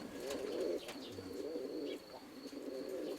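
Pigeons in a loft coo softly and steadily in a low rolling murmur, with faint chirps and a brief flutter in the background, no one speaking.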